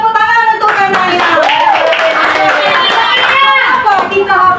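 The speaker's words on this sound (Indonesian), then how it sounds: "tepuk tangan untuk Kanaya" Pupils in a classroom applaud a classmate named Kanaya, with scattered clapping mixed with children's voices and chatter throughout.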